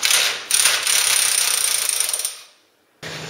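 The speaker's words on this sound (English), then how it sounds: "And then you can use the gun again to squeeze it." A hand crimping gun squeezes a hose coupling with a rapid run of ratcheting clicks for about two seconds, a brief pause, then the clicking starts again, close and loud.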